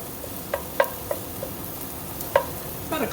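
Minced garlic and onions sizzle quietly in a pan, with a soft steady hiss broken by a few sharp clicks and scrapes of stirring.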